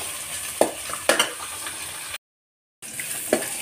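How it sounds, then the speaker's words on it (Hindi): Bell pepper and onion fry lightly in rice bran oil in a pan, giving a steady soft sizzle broken by a few scraping stirs. There is a brief silent gap before the sizzling and stirring resume. "इसको ज़्यादा फ्राई करने की ज़रूरत नहीं है, थोड़ी सी हल्की सी फ्राई करनी है।"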